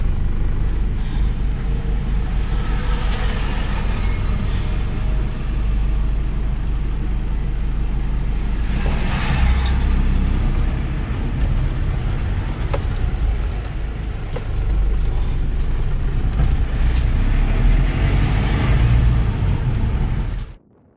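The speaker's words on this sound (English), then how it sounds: "Well, hello, car." A car passes on a road on St Helena Island, a loud, steady broadband rumble with a noisy roar that fills about twenty seconds before cutting off, with no talking.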